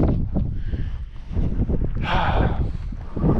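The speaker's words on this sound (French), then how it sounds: "Alors oui, il y a pas mal de vent." Strong wind buffeting a microphone on a foggy mountain summit along the GR20 trail, loud irregular gusts and rumbles that rise sharply partway through.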